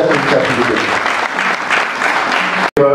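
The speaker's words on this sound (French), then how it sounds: "Et je demande d'applaudir bien fort pour son excellence." Loud, sustained applause from a crowd at a Congolese youth event, with brief cheering voices mixed in. It cuts off abruptly near the end.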